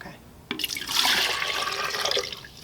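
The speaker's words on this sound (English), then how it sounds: "I use a big bowl when I'm pouring it out of the coconut" Coconut water poured from a fresh coconut into a big bowl makes a steady splashing gush lasting about two seconds, close and fairly loud, with no talk over it.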